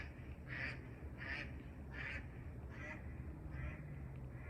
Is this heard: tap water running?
no